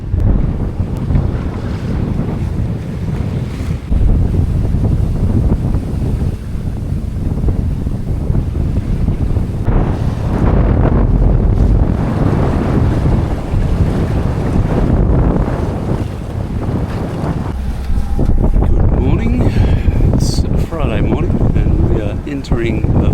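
A sailboat runs under strong wind among the Ha'apai islands of Tonga, a constant roar of wind buffeting the microphone mixed with rushing water and waves along the hull, loud and unbroken throughout.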